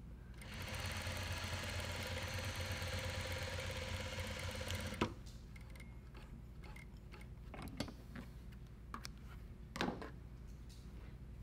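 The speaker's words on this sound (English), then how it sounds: "This is an apparel machine. It does all sorts of just single needle straight stitches." Juki DDL-5550 single needle straight-stitch apparel sewing machine runs in a steady fast whir for about five seconds, then stops, leaving faint clicks and handling knocks nearby.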